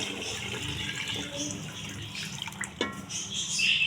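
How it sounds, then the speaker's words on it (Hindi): Yakhni broth is poured into a pot of rice, a steady soft splashing and trickling of liquid with a brief sharper splash near the end. "अब जो है इसमें यखनी ऐड कर देंगे"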